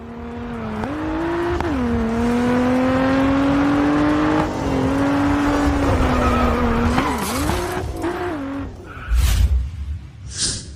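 Race car in the Grid Autosport mobile racing game, a loud engine drone with tire squeal as it slides through corners, pitch shifting with speed, ending in brief bursts of impact noise.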